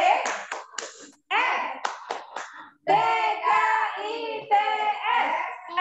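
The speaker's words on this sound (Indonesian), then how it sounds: "Kita tepuk TKITS yuk." A clapping chant at an Indonesian kindergarten: crisp rhythmic hand claps in short bursts alternate with a chanted, sing-song voice, fairly close and clear.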